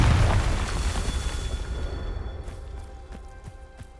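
A Confringo fire spell explodes in the Hogwarts Legacy video game with a loud, deep boom that rumbles and decays over several seconds, while faint clicks and footsteps come through near the end.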